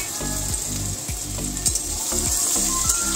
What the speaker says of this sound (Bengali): এবার আলুটা আমি খুব ভালো করে একটু ভেজে নেব, বেশ একটু হালকা লাল লাল করে ভাজবো।